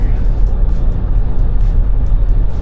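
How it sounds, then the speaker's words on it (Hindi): Steady, loud road noise rumbling inside a Tata Harrier EV cruising on a highway, a constant low roar with no break and some faint voice underneath. "रोड नॉइस तो थोड़ी बहुत सुनाई दे रही है, स्पेशली हाईवे पे आने के बाद में"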